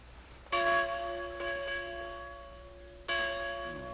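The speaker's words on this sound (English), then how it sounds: "Courthouse bell." Courthouse bell ringing with clear sustained tones, struck twice with a long ringing decay between strikes, moderately loud against a quiet background.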